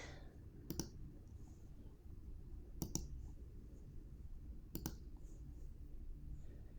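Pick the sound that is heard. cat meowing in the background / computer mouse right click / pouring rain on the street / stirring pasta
computer mouse right click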